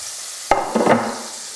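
Plaice fillet frying in butter in a pan, a soft steady hiss with two brief louder bursts of sizzle and stirring partway through, close and alone with no talk.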